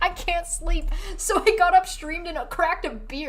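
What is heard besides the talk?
No everyday noises stand out.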